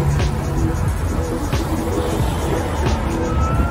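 A car passes on the road close by with a steady, loud rush of tyre and engine noise.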